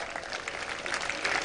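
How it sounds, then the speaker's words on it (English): A crowd applauds a guest at a cultural function marking 400 years of Carmelite presence in India, a dense, steady wash of clapping heard briefly at moderate distance. "Please give him a rousing applause"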